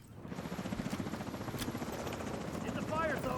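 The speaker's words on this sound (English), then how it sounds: "The chopper." Helicopter in a combat video game, a steady rotor drone with rhythmic beating that grows louder over a few seconds, with faint game noises near the end.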